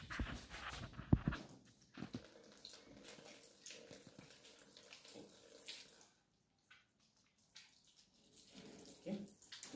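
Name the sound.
hand washing under running tap water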